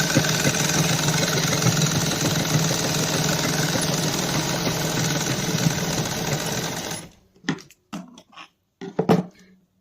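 A sewing machine runs fast and continuously, stitching a sleeve seam, then stops abruptly and leaves a few light clicks and handling sounds.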